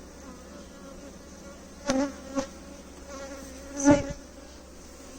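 Honey bees at a hive drawing wax make a soft, steady background hum, with a few brief louder buzzes as individual bees pass close by. One short spoken word is heard.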